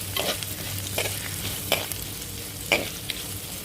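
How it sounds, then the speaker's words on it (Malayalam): Sliced onions stirred in a hot pan after mustard seeds and curry leaves, for a Kerala fish thoran: steady close sizzling with a few distinct spoon scrapes against the pan, no voices. "നല്ലതുപോലെ ഇളക്കി കൊടുക്കുക"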